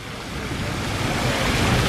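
Water pours from the Ross Fountain in Edinburgh, a loud, continuous rushing splash with no pauses, heard close and alone.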